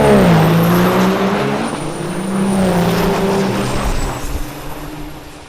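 A diesel drag racing truck at the Texas Motorplex drag strip roars hard down the track, a loud engine tone climbing and shifting through gears, then fading with some crackle as it recedes.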